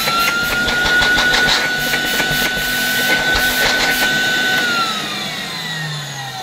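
An old 1964 Gamma II vacuum cleaner motor whines at a steady high pitch with a rough drone, then spins down as it switches off.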